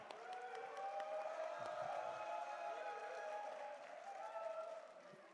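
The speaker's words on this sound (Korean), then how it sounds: "뜨거운 박수 부탁드리겠습니다" A crowd at a Democratic Party nomination event in Jeju gives faint, sustained applause with some cheering, heard distantly for several seconds.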